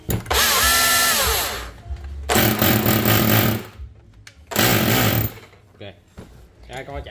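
A used Japanese power drill that throws slight sparks runs in three loud whirring bursts, winding up and down between pauses, with people talking near it.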